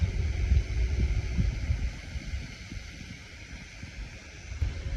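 An electric creative fan for room display blows air in a steady whooshing rush, with low buffeting rumbles that swell and ease, loud and close.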